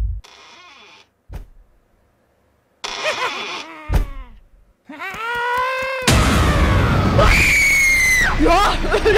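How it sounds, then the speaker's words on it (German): Jump-scare screams in the horror video game Emily Wants to Play: a run of sudden shrill shrieks and yells, the last one loud, long and piercing, with short silences between bursts. "Da schreit gleich jemand."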